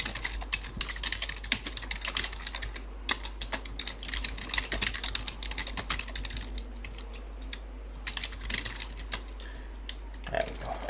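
Rapid clicking on a computer keyboard, quiet and close, in irregular bursts with short pauses over a low steady hum.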